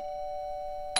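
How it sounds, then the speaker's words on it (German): A doorbell sounds as a steady electronic tone, fairly quiet, ending with a brief brighter clack. "Warum hat es jetzt gerade geklingelt?"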